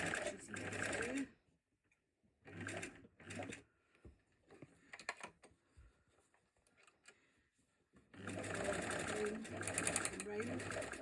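An old sewing machine stitches a hot water bottle cover in bursts of rapid mechanical whirring, three runs separated by quieter pauses with some handling, the last run long and steady.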